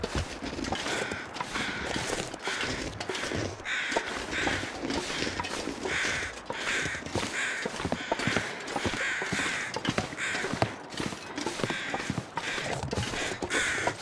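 Crows caw repeatedly in the survival video game The Long Dark, harsh overlapping calls repeating in a fairly steady rhythm against a scratchy crunching background, loud and close with no talk.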